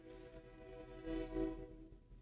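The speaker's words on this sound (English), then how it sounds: "The train." A train passes a nearby railroad crossing, heard as a faint, distant horn with steady tonal drone swelling briefly in the middle, with no talking.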